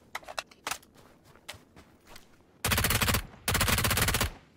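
Gunfire in a shooter video game: a few quick, sharp single shots open the clip, then two long, loud bursts of automatic fire follow close together.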